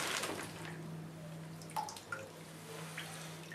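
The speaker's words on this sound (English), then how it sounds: "Submerge it in the water." Plaster of Paris bandage dunked in a bowl of water, with soft splashes and a few distinct drips and trickles falling back into the water, close and fairly quiet over a steady low hum.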